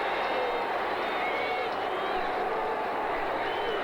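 Steady crowd roar fills a stadium during a 1980 NFL game between the Miami Dolphins and Atlanta Falcons, a continuous wash of voices with a commentator talking over it.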